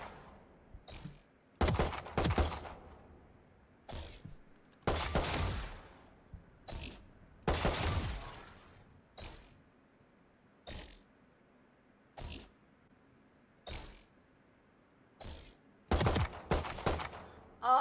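Target-shooting video game gunfire: short bursts and single shots spaced irregularly across a quiet background, some bursts longer and rattling, fairly loud against near silence.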